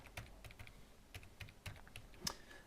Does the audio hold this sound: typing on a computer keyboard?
yes